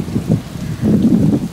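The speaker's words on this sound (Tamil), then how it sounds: "மழை ஸ்டார்ட் ஆகிடுச்சு, நாங்கள் இங்கே வந்து இறங்கின உடனே" Rain patters steadily at a ferry port near Poole and Swanage, a close, dense hiss with a low rumble underneath, no talk.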